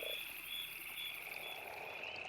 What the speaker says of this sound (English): leopard toads secrete a white milky toxin from the lumpy glands behind their eyes